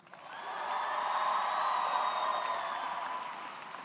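High school graduation audience applauding and cheering, a swelling crowd roar with clapping and high whoops that builds, holds, then eases off.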